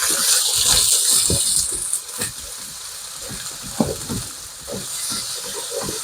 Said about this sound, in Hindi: अनियन डाल के और उसके साथ हमने अपना ये जो गार्लिक था वो भी डाल देंगे